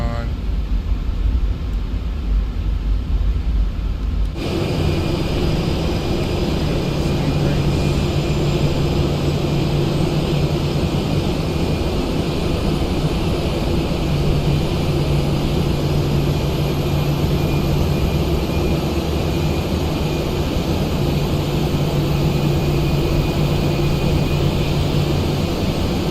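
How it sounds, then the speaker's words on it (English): A Boeing 737-800 auxiliary power unit spooling up in a PMDG flight simulator, a loud steady drone with sustained tonal hums and a rising high whine, continuing without pause throughout. "APU should be spooling up"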